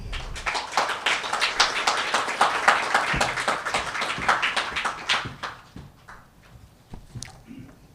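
Audience applause at a business talk on workforce and talent, a dense burst of clapping from a crowd for about five seconds that thins into a few scattered claps and fades out.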